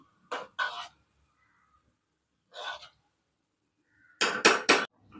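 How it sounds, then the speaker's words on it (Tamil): A few brief clanks and scrapes of a spoon against a pot of boiling kadala curry, in separate short bursts with silence between them. "லேசாக கிண்டி கொடுத்துக்கலாம்"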